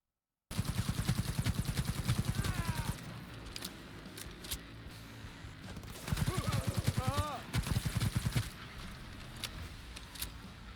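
Gunfire from the Cyberpunk 2077 video game, with bursts of rapid shots in two loud stretches separated by quieter gaps and scattered single cracks, accompanied by game sound effects and background music.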